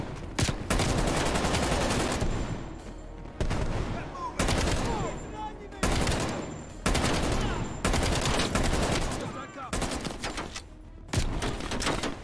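Heavy bursts of automatic gunfire in a Call of Duty Black Ops Cold War campaign fight, loud volleys separated by short breaks, with a voice heard faintly between them.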